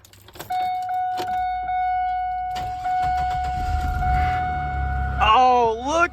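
A 2002 Pontiac Grand Prix GT is cranked for a cold start: a steady whine with tonal harmonics runs through most of the clip, then the engine catches and revs near the end with a loud, rising roar. Faint talk is present.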